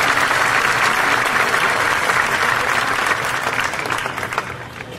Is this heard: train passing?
no